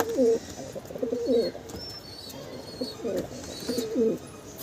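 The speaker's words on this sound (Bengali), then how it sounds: "খুব সুন্দর এক জোড়া বুদাপেস্ট কবুতর, কালারটাও একটা ইউনিক কালার।" Pair of Budapest pigeons cooing in repeated soft, low rolling phrases, about four coos in quick succession, close by with faint chirps and background noise.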